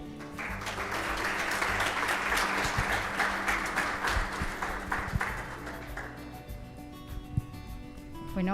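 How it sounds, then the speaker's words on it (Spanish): An audience at an institutional event in Panama claps together in sustained applause that swells for several seconds and then tapers off into a scattering of final claps and room noise. "nos damos un aplauso a todos."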